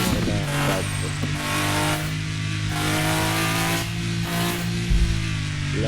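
A car being driven revs its engine in a continuous, loud, droning growl with stable harmonic pitch, pulsing slightly as the throttle varies, heard close and alone.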